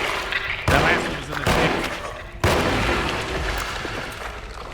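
Gunshots in the video game Alone in the Dark: two loud, booming blasts about two seconds apart, each followed by a long echoing tail over a steady background rumble.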